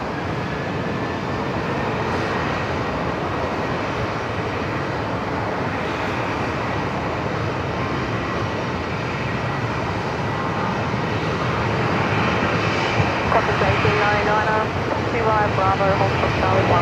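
A Velocity Boeing 737-700 bound for Sydney makes an intersection departure from Brisbane Airport, its jet roar loud and continuous and swelling toward the end, with radio chatter and speech mixed in.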